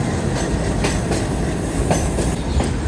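Pakistan Railways locomotive PHA 208312 shunting at a station, a loud continuous rumble of rolling railcars with rhythmic clickety-clack of wheels over rail joints and faint squealing, steady and close throughout.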